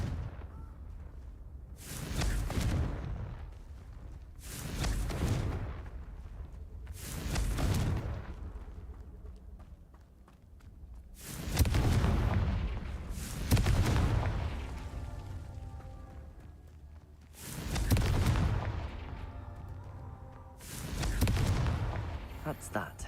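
Confringo blasting spells go off in a Hogwarts video game, seven heavy booming explosions arriving in bursts a few seconds apart, each with a sharp hit and a fading rumble between.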